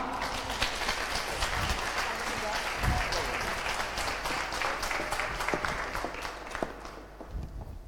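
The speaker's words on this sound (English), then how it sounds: "Please give a warm round of applause for Miss Mona Shach." Warm audience applause at a social innovators conference, dense clapping from a seated crowd that holds steady and then thins out toward the end, with a few low thumps mixed in.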